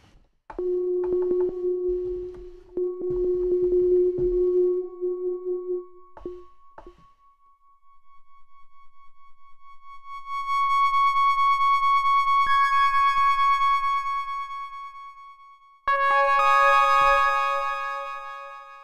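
A u-he Diva software synth patched for FM makes glassy, bell-like tones: short repeated notes at first, then long sustained bright notes, with a higher, brighter bell chord entering near the end, loud and with no voices.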